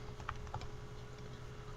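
Quick soft key taps as data values are punched into a calculator, a few light clicks at the start and then quieter, faint over a low steady hum.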